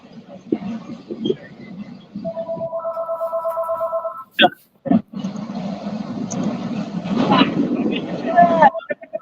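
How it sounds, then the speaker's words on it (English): A phone rings aboard a fishing boat on the water, a repeating electronic trill sounding in short bursts amid wind and engine rumble, with people talking around it. "Sorry about that phone, y'all."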